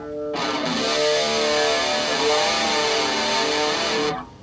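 Electric guitar run through a grunge distortion pedal and a First Act analog chorus pedal rings out as one sustained, fuzzy chord with a wavering shimmer, starting abruptly and cutting off after about four seconds.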